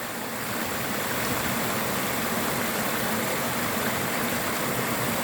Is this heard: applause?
no